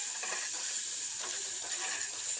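Shredded cabbage fries in a pan as it is stirred, giving a soft, steady sizzling hiss at low volume with faint scraping movements and no talking.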